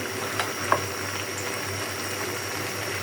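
A pot of leafy vegetable curry with Malabar spinach simmering on the stove, a steady bubbling hiss throughout with one or two faint knocks, close and continuous with no talking.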